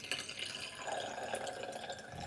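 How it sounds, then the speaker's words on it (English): Water splashes and trickles while a black-and-white film developing tank is rinsed, a close, uneven running sound with small drips and gurgles, no voices. "So I just rinse it with water"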